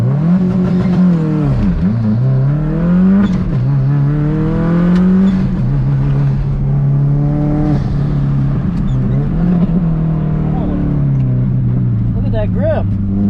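A car accelerates hard on an autocross track with a passenger aboard, the engine revving loudly and continuously through repeated rises and falls in pitch as gears and throttle change, close and dominant throughout.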